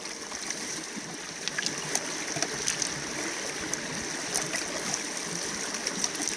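Water rushing steadily through an 8-inch gold sluice with a grate at Sailors Creek, Daylesford, a continuous close babbling flow with scattered small splashes and trickles.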